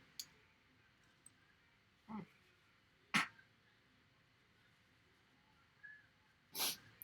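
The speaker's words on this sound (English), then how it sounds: "I'm sorry for the sniffling." Short nasal sniffles and snorts from a person with an itchy nose, set off by cat fur, come as four or five brief, fairly close bursts spaced across otherwise quiet indoor stillness.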